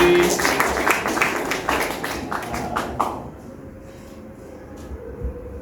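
An audience claps steadily for about three seconds in a hall during a talk, then the applause stops abruptly, leaving quiet room tone.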